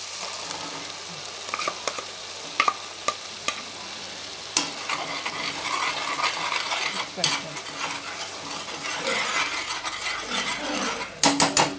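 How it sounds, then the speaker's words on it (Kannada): Onion, ginger and garlic paste fries in a pot for a chicken curry, with a steady sizzle, repeated close scrapes and clinks of a spoon stirring against the metal, and no talking. "ಸ್ವಲ್ಪ ಚೆನ್ನಾಗಿ ಫ್ರೈ ಆಗಲಿ ಈರುಳ್ಳಿ ಶುಂಠಿ ಬೆಳ್ಳುಳ್ಳಿ ಪೇಸ್ಟು"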